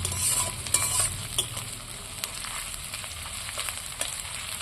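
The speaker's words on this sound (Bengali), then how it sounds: "পেঁয়াজটা আধ ভাজা হয়ে গেছে দেখো কতটা নরম হয়ে গেছে পেঁয়াজটা" Onion frying in a pan for a chicken dish, a constant close sizzle with a low hum under it and frequent stirring scrapes and clicks, alone without speech.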